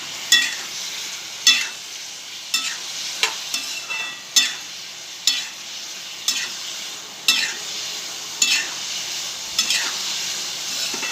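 Cauliflower pieces roast with salt in a pan, a spoon scraping and stirring in regular strokes roughly every second over a soft, steady sizzle.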